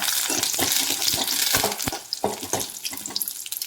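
Chilies and curry leaves fry in hot coconut oil, giving a steady bright sizzle broken by sharp crackles and pops, with a few clatters of stirring toward the end.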